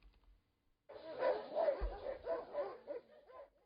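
Dogs bark and yip at a pet boarding kennel, a run of sharp, fairly close barks following a brief quiet start, with a whimpering edge and no talk.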